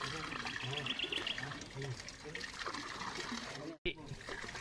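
Water trickles and splashes steadily from a manual hand pump being primed, a continuous near dribble under people talking.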